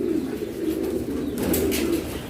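A racing pigeon coos nearby in low, repeated throaty phrases over steady background noise, with a brief rustle partway through.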